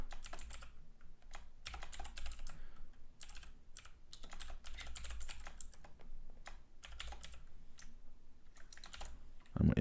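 Quick typing on a computer keyboard, keys clattering in uneven bursts with short pauses between them, close and fairly quiet.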